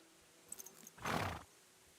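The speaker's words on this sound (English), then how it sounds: "So, let's get on my horse." A horse in a video game gives a short, loud neigh after a few faint clicks, with no talk over it.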